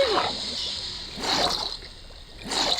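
Water splashing in Minecraft, repeated in three separate bursts of splashing and sloshing with quieter watery gaps between them.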